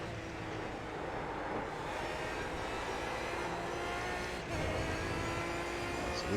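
A high-revving Aston Martin DBR9 race car engine in the iRacing sim at Silverstone drones steadily with a sharp shift of pitch partway through, loud and continuous with no talking.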